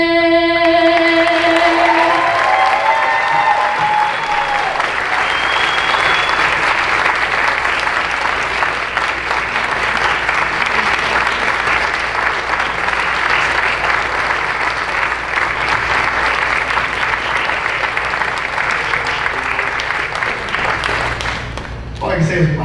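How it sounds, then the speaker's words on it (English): Sustained audience applause with cheering after a national anthem performance at an awards event, a dense wash of clapping that holds steady and loud for about twenty seconds before stopping abruptly. "Can we just get one more round of applause for Addie, please?"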